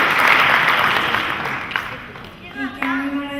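A pageant audience at an Andorran girls' pageant election claps loudly at first, then the applause thins and fades away, and a voice begins speaking as it dies down.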